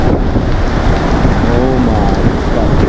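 Heavy blizzard wind near Stevenson, Washington roars loudly and constantly against the microphone, a thick low rumble with a faint whistling tone briefly rising through it.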